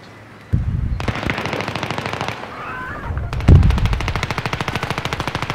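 Rapid automatic gunfire in a video game shootout, loud bursts of repeated shots that start, pause briefly, then resume in a steady rattling stream, with faint game sounds between bursts.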